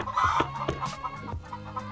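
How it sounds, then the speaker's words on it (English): Chickens in a backyard hut cluck and squawk in a busy, overlapping stream, loud and close, with no talking over them. "Chicken's going crazy."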